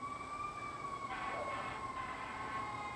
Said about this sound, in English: Sirens on, a fire truck drove by the front porch